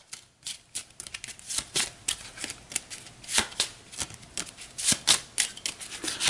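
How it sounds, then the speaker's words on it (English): A deck of game cards for a Cthulhu: Death May Die board game being riffle-shuffled, a rapid series of crisp close-up flutters and snaps in bursts, with no talking. "Give that a quick shuffle."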